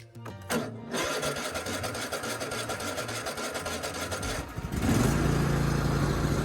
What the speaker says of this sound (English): push the brake pedal all the way in and turn the key to crank.